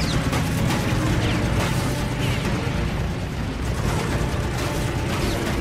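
Sustained machine-gun fire from a P-40 fighter and a Japanese Oscar in a WWII dogfight: a loud, dense, unbroken rattle of shots blended with roaring engine noise.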